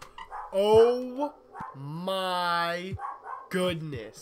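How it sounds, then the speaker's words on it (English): House dogs bark and give drawn-out howling yelps close by while a person talks over them during an NBA 2K19 gaming session. "Sorry about the dogs."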